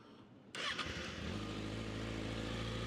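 A 2016 Kawasaki ZX636 motorcycle engine cranks and fires with a sharp catch, then settles into a steady, even idle heard up close with no speech.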